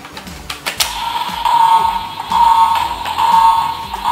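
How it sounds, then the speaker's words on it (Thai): A repeating electronic warning tone pulses from a Kamen Rider Zero-One DX Metsubojinrai Forceriser toy belt, a steady high beep recurring about every second over clicks and handling noise. "สัญญาณเตือน warning ขึ้นมา"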